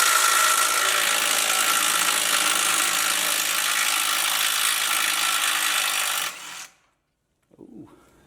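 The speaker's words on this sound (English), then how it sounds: "These sway bar bolts, I think they are 15 millimeter. I'm gonna start taking these off." Ratchet removing 15 mm sway bar bolts on a truck; a loud, continuous mechanical buzz close by for about six seconds, then stopping abruptly, followed by a short faint clunk.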